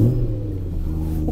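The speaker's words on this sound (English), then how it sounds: "V8s sound fantastic when they fire up, especially E92 M3s on cold start." A BMW E92 M3 V8 on cold start gives a deep, steady engine rumble with a low idle burble, loud and close, holding constant without talk.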